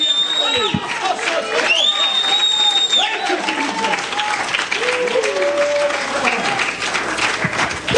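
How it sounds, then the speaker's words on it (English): A church congregation claps and shouts together at an anniversary service, loud and continuous, with voices calling out and rising and falling over the clapping. "Clap again. Shout again."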